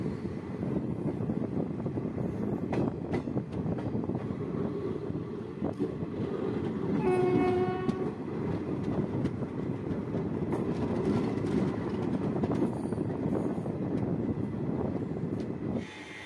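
The Kakatiya Express rumbling through a small two-platform railway station in Telangana, a steady low rolling drone of wheels and carriages with a brief high horn-like tone midway, then easing off at the end.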